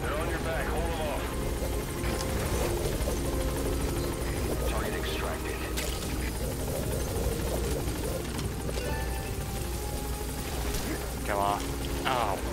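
A helicopter in the video game Metal Gear Solid V: The Phantom Pain roars continuously with a steady rotor drone, loud and unbroken throughout, while gunfire, game effects and people talking are heard over it.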